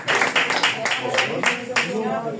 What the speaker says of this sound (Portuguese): Dá uma salva de palmas aí, igreja.